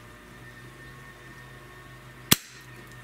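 A Walther Reign UXT PCP bullpup air rifle fires one sharp, loud, close shot, a single crack that stands out against a quiet, humming room.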